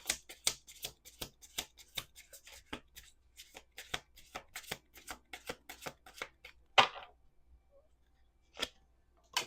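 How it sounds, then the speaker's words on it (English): Tarot cards riffled and snapped in a quick, steady series of crisp bursts, close by, then a pause and a couple of final slaps. "Last shuffle."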